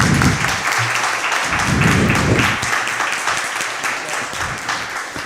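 Audience applause at a Veneto regional ceremony, a broad steady wash of clapping with a voice briefly speaking over it near the start.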